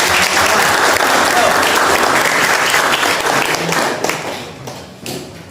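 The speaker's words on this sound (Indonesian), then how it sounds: "Kita beri aplaus dulu untuk Mas Asra" A classroom audience at a teacher-training session applauds, dense loud clapping that tapers toward the end, with some voices underneath.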